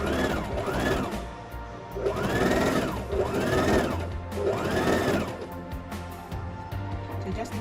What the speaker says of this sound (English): I like to double stitch it just to reinforce it